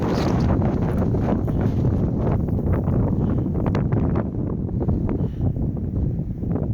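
Strong wind on the Appalachian Trail near Massie Gap buffets the microphone with a loud, continuous low roar and rustling gusts throughout, close and unbroken.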